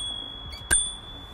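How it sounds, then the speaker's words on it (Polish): A Xiaomi Mijia M365 electric scooter bell, its plastic striker and spring hitting the bell, gives one short, bright ding in a quiet room. "Zobaczcie tutaj ten dzwonek, tu jest taki plastik, który o niego dzwonił, a tutaj mamy sprężynkę."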